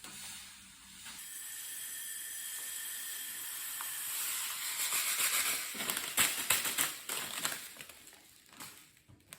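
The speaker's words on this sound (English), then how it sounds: "I've got 100 grams of brown mustard seeds and 100 grams of yellow mustard seeds. They are going to go into this pot now." Brown and yellow mustard seeds, about 100 grams of each, are poured into a pot, starting as a steady hissing rush and becoming a busier, uneven rattle and patter of seeds tumbling in, quiet and close.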